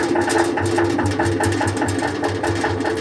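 A small 12-volt, 90-watt electric motor spinning a honey extractor hums steadily with a fast rhythmic pulsing throb, close and loud, with no talk.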